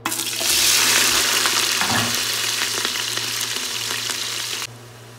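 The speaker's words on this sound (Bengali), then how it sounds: "কুকারে তেল নিয়ে নিয়েছি। এখন আমরা দিয়ে দেবো পেঁয়াজ আর লঙ্কা" Onion and green chili hit hot oil in a pressure cooker with a loud, dense sizzle that swells at once and holds steady, with a stirring knock midway. It cuts off abruptly near the end, leaving a low hum.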